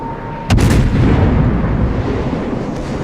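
A warship's artillery salvo in World of Warships, one loud booming blast followed by a long rumbling roar that slowly fades.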